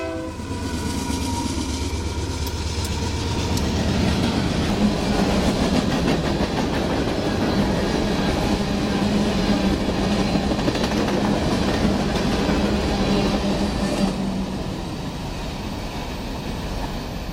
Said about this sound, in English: In California, you don't have fucking long trains like that.